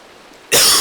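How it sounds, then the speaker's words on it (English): Rain in Minecraft bursts in suddenly as a loud, dense hiss of falling drops, cutting in after a quiet moment and holding steady to the end. "I don't really appreciate the rain with its lighting."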